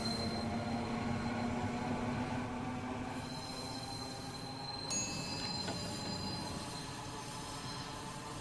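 Train in the Roblox game Terminal Railways rolling steadily with a continuous rumble and high wheel squeal, a few brighter metallic tones cutting in midway, no talking.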